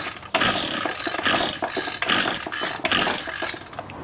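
An SRM 225 two-stroke engine fitted with a new piston ring runs at full throttle, a loud, rough, steady buzzing roar with small surges, close by and alone.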